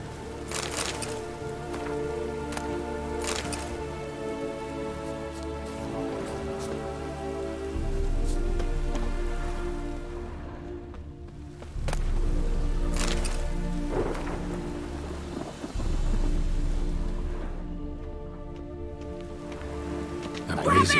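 Rain in the Witcher 3 game world patters steadily in the background under game voices, alongside scattered clicks and low rumbling swells that come and go.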